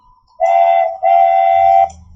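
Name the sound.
train sound effect played in Scratch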